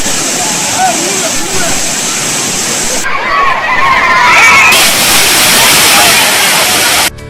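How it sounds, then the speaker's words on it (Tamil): Tourists and families bathing at Kumbakkarai and Suruli waterfalls in Theni, with a loud, steady rush of falling water and splashing, crowd babble mixed in, ending abruptly. "தேனி மாவட்டத்தில் உள்ள கும்பக்கரை, சுருளி அருவிகளில் சுற்றுலா பயணிகள் குடும்பத்துடன் நீராடினர்"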